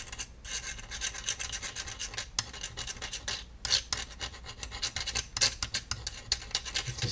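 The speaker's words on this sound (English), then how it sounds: "Take the probe and very gently just keep scraping." A metal probe scrapes gallium gently across an aluminum surface to break up oxidation. It makes a close, quiet, continuous raspy scratching in irregular strokes, with brief louder scrapes and no talk.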